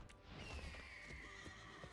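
The Ostrich Horse card in the MTG Arena video game gives a faint neighing whinny, a quiet drawn-out cry with light hoof-like clatter beneath it.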